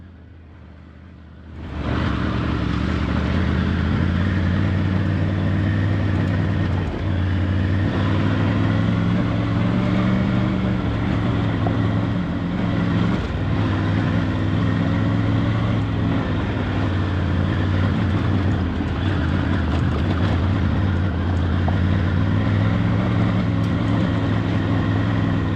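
A Triumph Tiger 900 Rally Pro rides off-road, its engine droning loud and steady from close by after a quiet start, with wind rush over a continuous low hum.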